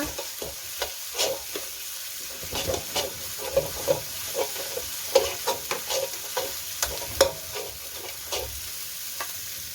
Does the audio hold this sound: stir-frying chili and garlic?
yes